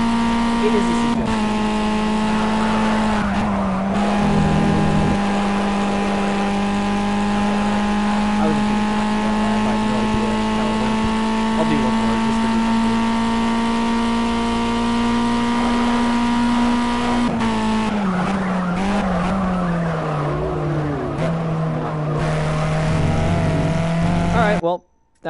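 A race car engine in Project CARS on PS4 drones loudly and steadily at high revs, with gear changes and tire noise. The sound carries on without a break for the whole stretch.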